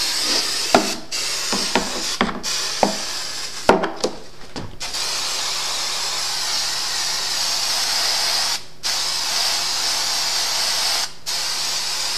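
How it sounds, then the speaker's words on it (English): A spray gun hisses steadily into the inside of a bag, in long continuous bursts broken by short pauses and a few sharp clicks and knocks near the start. "spray the inside of the bag"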